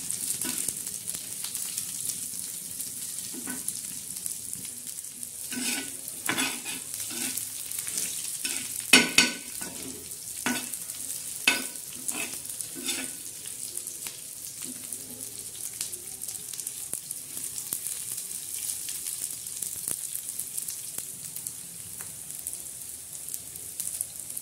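Chilies and spice masala roast in a pan for a black masala, a soft steady sizzle under repeated scraping and stirring strokes, with a couple of sharper knocks midway.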